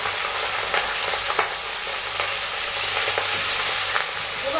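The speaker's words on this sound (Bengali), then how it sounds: "তেল দিয়ে দিয়েছি, তেলটা গরম হয়ে গেছে। এর মধ্যে আমি মাছগুলো দিয়ে দেব" Fish rubbed with turmeric and salt sizzles steadily in hot oil, a continuous bright frying hiss with occasional louder spits and pops, close by and without any talk.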